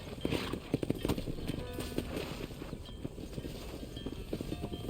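Horse hooves clip-clopping at a quick gait in the Red Dead Redemption western video game, rhythmic thuds under steady ambient noise and occasional voices.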